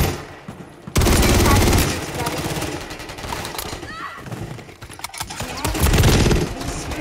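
Loud, dense gunfire in Call of Duty multiplayer, a weapon without attachments firing sustained bursts that start abruptly and roll on with chaotic battle noise and a voice underneath.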